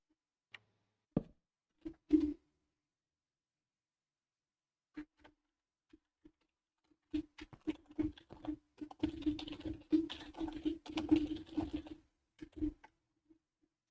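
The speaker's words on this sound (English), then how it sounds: "Expensive typing sounds." Computer keyboard typing in the game Harmony 14, starting as a few scattered keystrokes and building into a quick, steady burst of clicking close by, with no talking.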